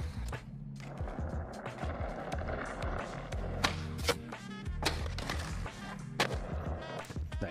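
Skateboard sounds from the video game Skater XL as a board kickflips onto a rail downtown: rolling wheel rumble broken by several sharp clacks and grinding hits, steady and fairly loud throughout.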